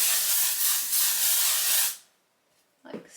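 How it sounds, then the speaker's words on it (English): A steady aerosol hair spray hisses onto curls for about two seconds, then stops, followed by a brief soft rustle. "And then just want to spray the curls."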